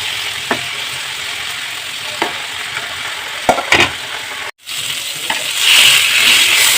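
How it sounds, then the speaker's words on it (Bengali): Marinated fish pieces fry in mustard oil in a kadai with a loud, steady sizzle and occasional utensil clinks, swelling into a stronger hiss near the end. "মাছগুলো লাল লাল করে ভেজে নেব।"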